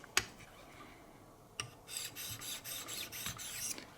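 Benchmade knife with S90V steel being sharpened on a 1500-grit diamond stone in a Wicked Edge guided system, giving a sharp click, then steady rhythmic rasping strokes that build in the second half, close and fairly loud.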